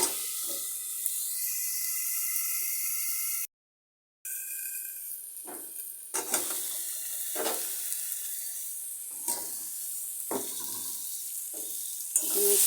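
An egg fries in a pan with a steady bright sizzle, briefly cut off, then returning with scattered pops and scraping stirs, close and moderately loud with no talk.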